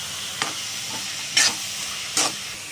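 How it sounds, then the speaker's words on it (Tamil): Curry leaves and onion sautéing with mustard seeds in a pan, heard as a steady hiss with three quick scraping stirs spaced about a second apart. The sound is close and there is no speech. "கருவேப்பிலையும் வெங்காயமும் நல்லா வதங்கணும்."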